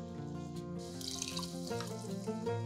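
Two glasses of water are poured into a cooking pot with bulgur, spices and curry seasoning, giving a soft, quiet trickling pour with a ringing, resonant tone throughout.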